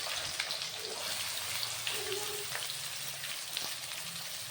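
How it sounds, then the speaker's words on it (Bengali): Chopped onions sizzle and crackle in hot white oil in a wok, a soft, steady frying hiss with faint pops throughout and no talking. "এবার কড়াইয়ের মধ্যে দিয়ে দেবো পেঁয়াজ কুচি।"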